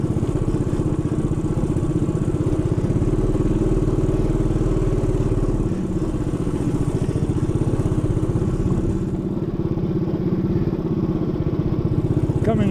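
An off-road motorcycle engine drones steadily at close range while riding a loose, rocky trail along power lines in Lower Coyote Canyon, a continuous mid-pitched buzz that dips slightly midway.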